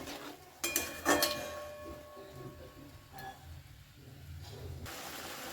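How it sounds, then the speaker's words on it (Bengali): Vegetables are stirred with spice paste in a pan on a medium flame: a few sharp metallic scrapes and clinks of a spoon against the pan early on, then quieter shuffling, all faint and close. "বেশ ভালো করে মশলার সাথে একটু নাড়াচাড়া করে নেব সবজিগুলো"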